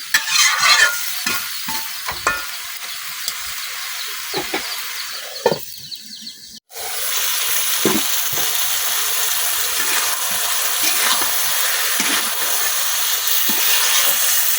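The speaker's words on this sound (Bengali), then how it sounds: "এখন বাকি সবজিগুলোর সাথে টমেটোটাও খুব ভালোভাবে কষাই নিলাম।" Mixed vegetables and raw tomato sauté for a rohu fish curry, with a loud close sizzle and repeated scraping stirs; after a brief hush the frying returns as a fuller, steady hiss.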